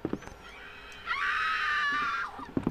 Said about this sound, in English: that's not a stock scream sound we haven't heard in every other movie on the planet